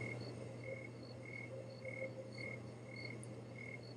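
Steady outdoor night ambience with a continuous chorus of chirping insects and frogs, regular high pulses repeating evenly over a low constant hum.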